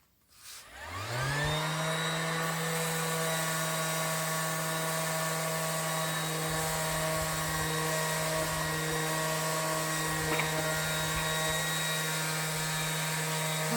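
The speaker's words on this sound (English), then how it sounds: "so that's why I got this particular sander, so I could use all his batteries" An AEG battery-operated sander spins up and runs sanding a wooden vanity dresser, giving a loud, steady high-pitched whine with a strong drone that holds evenly throughout after a quick start.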